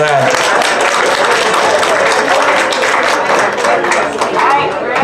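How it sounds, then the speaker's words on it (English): A crowd applauds loudly and steadily at a snowmobile and ATV club corn roast, a thick continuous wash of clapping with murmured chatter mixed in. "let's hear a round of applause for him for that"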